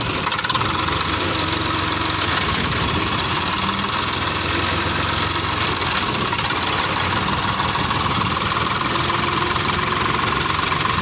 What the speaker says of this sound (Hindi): और ये अपना ट्रैक्टर है स्वराज 855। चलो दोस्तों दिखाता हूँ कैसे चलता है।